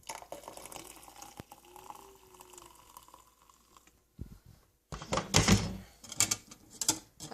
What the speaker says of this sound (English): Add a bit of more water here.